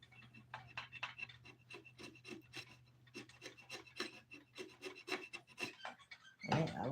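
An old gasket is scraped off with a hand scraper in quick, rasping back-and-forth strokes, fairly faint but steady, ending in a louder scuff.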